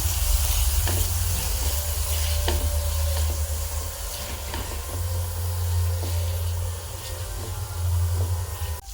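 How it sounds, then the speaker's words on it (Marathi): Tomatoes frying with onion in a pan as filling for stuffed brinjal, a steady hissing sizzle with light stirring, alongside a low background hum throughout. "आता यात मी घालून घेते टमाटे तर आता टमाटे घातलेले आहेत आणि टमाटेही आपण छान शिजू देऊया"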